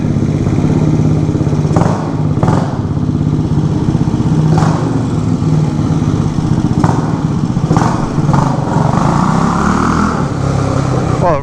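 A 1967 Harley-Davidson H Sprint 250 motorcycle runs loudly and close, its engine droning steadily with some clatter as the rear tire spins, with a voice and occasional bursts heard over it.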